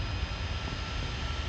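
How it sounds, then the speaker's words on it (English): Learjet 60 private jet taking off from a runway at Fort Lauderdale, a dense steady jet engine roar filling the scene, loud and continuous without any voices. "the airplane's going to be taking off east"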